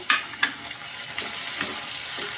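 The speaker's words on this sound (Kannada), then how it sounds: "ಇವಾಗ ನಾವು ಇದಕ್ಕೆ ಟೊಮೊಟೊನ ಆ್ಯಡ್ ಮಾಡ್ಕೊಡೋಣ" Tomatoes added to reddened frying onions for a capsicum curry sizzle steadily in the pan, with a few sharp clinks and scrapes from stirring; no talking.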